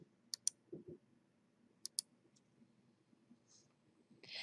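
Mouse clicks on the Merge button in book-record merging software: two quick pairs of sharp, light clicks near the start and again around two seconds, close and crisp over a faint room hush.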